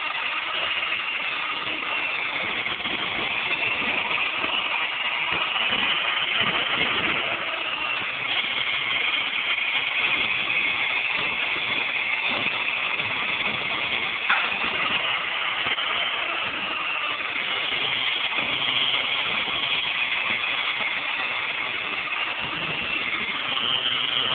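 An electric hand mixer whips shea butter cream at a higher speed, a continuous high-pitched motor whine with a steady, dense buzz that holds at an even volume from start to finish.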